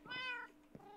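A cat in Minecraft on the Mianite server gives one short, clear meow, rising then falling, followed by a faint, softer sound, close and quiet with no talk.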